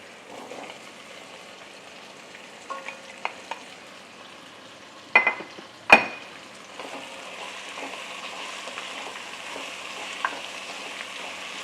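Bottle gourd pieces cook in a pan for a Telugu sorakaya pulusu as a spoon stirs them, giving a soft, low sizzle under scraping, with sharp metal clanks against the pan around the middle and scattered lighter taps.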